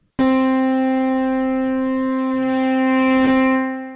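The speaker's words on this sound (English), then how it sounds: "we can also assign the LFO to our filter's resonance instead of the cutoff" A steady synthesizer tone with a bright stack of harmonics, its filter resonance swept by an LFO. It sounds alone and fairly loud, held for about four seconds with a gentle wobble in brightness.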